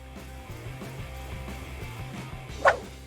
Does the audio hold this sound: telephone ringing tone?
no